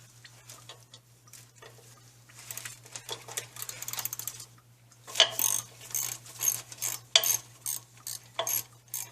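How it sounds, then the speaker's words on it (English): A drum brake wheel cylinder is worked loose from its backing plate with a hand tool, making uneven bursts of close, rapid ratcheting clicks over a faint steady hum, louder toward the end. "now we'll actually disconnect the wheel cylinder itself from the backing plate"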